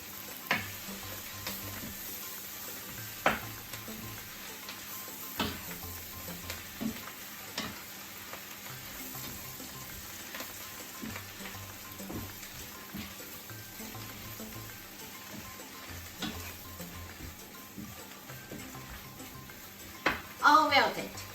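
Spinach leaves frying in a pan and being stirred until wilted, a soft steady sizzle with frequent light scrapes and taps of the utensil against the pan, ending in a brief clatter.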